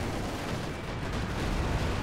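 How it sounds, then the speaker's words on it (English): Artillery shelling rumbles in the World War II strategy game Company of Heroes 2 on the Essen Steelworks map, a dense, continuous barrage of muffled booms and crackling impacts with no voices over it. "And now they're being hit by artillery from the other guy."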